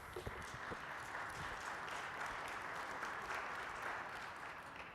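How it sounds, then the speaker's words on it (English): Audience applause in a conference session hall after a questions segment, a dense even wash of clapping that holds steady throughout at a fairly low level, heard from some distance. "Thanks for the applause"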